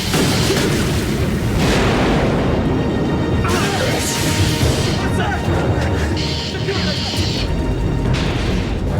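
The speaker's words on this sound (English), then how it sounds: "Explosion was on the other craft, sir." An explosion in an action movie aboard a submarine-type craft, a dense continuous roar and rumble lasting several seconds with bursts and rattles on top, loud and unbroken, with voices partly buried in it.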